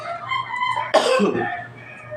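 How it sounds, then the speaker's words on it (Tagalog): A single harsh cough bursts out mid-clip, close and fairly loud, with a faint steady hum underneath. "inuubo ng lola niyo mga friendships"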